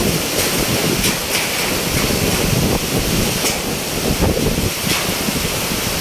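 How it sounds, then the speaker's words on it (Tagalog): Strong, roaring wind from Typhoon Aghon blows continuously, buffeting the microphone with gusty rumbles and hiss, no voices present. "Tuloy-tuloy yung lakas ng hangin."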